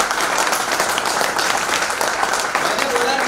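Dense, loud applause from an audience at a business seminar, continuous clapping without a break, with crowd voices faintly mixed in.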